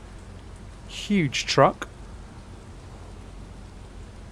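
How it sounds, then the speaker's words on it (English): Steady heavy rain hisses across the whole clip in Euro Truck Simulator 2, driving a Mercedes Actros MP3 with a V8, while someone briefly speaks over it midway. "Absolutely teeming it with rain, which is unfortunate."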